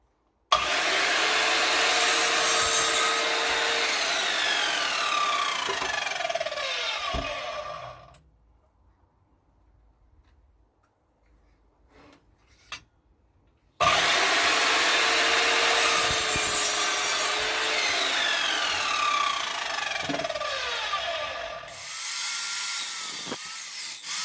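A power saw cuts wooden pieces for the bottoms of a rustic crate in a workshop, two long loud cuts with rising whine separated by a quiet pause, then a third cut starting near the end.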